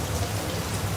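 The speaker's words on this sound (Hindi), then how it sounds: "ओह इतनी अच्छी बारिश।" Steady rain falls close by, a dense continuous hiss with soft patter of drops on surfaces, even and loud with no voices.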